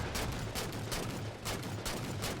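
Rapid bursts of gunfire in a Halo match, shooting at the gunner on a Warthog vehicle, crack out as sharp irregular volleys, loud and close, with no voices.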